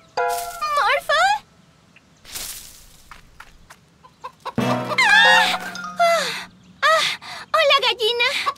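Cartoon chicken clucks and squawks in quick, rising bursts, loud and bright, broken by short gaps and a whoosh, with animated voices mixed in.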